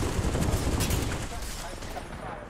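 Gunfire in a competitive battle-royale video game plays as a dense, rapid volley of shots that is loud at first and fades slightly toward the end.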